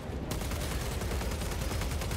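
A fast, inaccurate gun fires in Warhammer 40k Space Marine 2, a dense, continuous rapid-fire rattle of shots lasting a couple of seconds, loud and close, with no speech.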